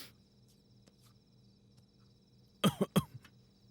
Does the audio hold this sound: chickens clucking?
no